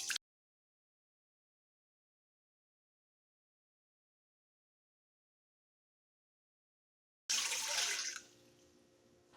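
About a cup of warm water is poured during home cooking: after a long silence comes a short, close gush of splashing liquid lasting under a second, then a quieter trickling tail.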